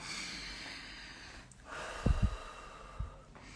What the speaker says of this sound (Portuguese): Eu tô falando respiração plena, respiração consciente, ó.